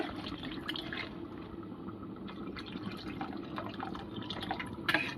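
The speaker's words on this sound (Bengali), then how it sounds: "এবার আমি জল দিয়ে দেব।" Water poured into a pot for chicken soup in a home kitchen, a steady close trickle and splash that runs unbroken throughout with no speech over it.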